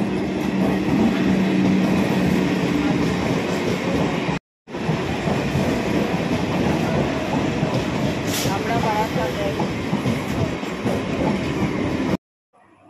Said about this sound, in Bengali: ট্রেনে উঠে গেছি, আমি আর মা যাচ্ছি।